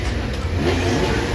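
Porsche 911 engines warming up at the Goodwood Revival, a steady loud mid-range engine drone held throughout the short stretch with slight swells, no talk.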